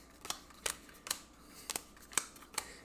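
Game cards for the Legacy of Yu card game are shuffled quietly nearby, making six crisp, separate snapping flicks spaced about half a second apart, with no talk.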